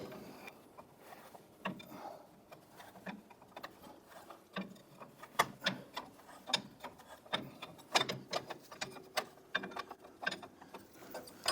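A wrench works loose a heavily rusted, heat-treated radius arm nut on a 1993–1997 Ford Ranger, giving a series of sharp metallic clicks and ratcheting snaps in irregular bursts, close by and fairly quiet, with no talking.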